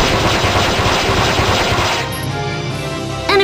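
Rapid gunfire rattles loudly for about two seconds in Valkyria Chronicles 2, then cuts off to a quieter battlefield hum before a brief sharp sound at the end.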